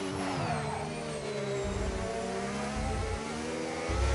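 A Williams Formula 1 car's engine screams through a racing-game lap of the Hungary circuit, steady high revs with smooth gear shifts and pitch sweeps, close and continuous with no talk.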